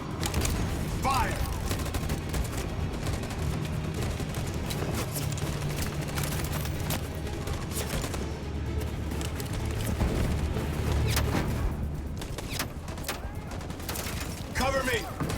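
Troops in a video game fire a musket volley, a burst of massed shots over a dense, continuous din of battle with voices talking throughout.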